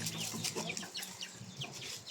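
Several chickens, including a white hen, cluck and chatter nearby in a continuous, busy flock sound with overlapping short calls and no speech.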